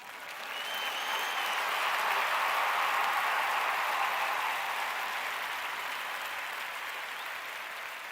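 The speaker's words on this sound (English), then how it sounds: "Round of applause" Sustained audience applause swells quickly and holds as a steady, even wash of many hands, easing slightly toward the end, with no voices over it.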